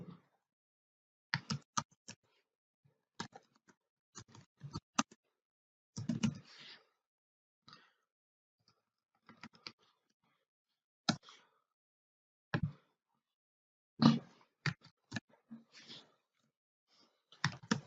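Sparse bursts of computer keyboard typing, quick clusters of crisp close clicks separated by pauses, with no talking.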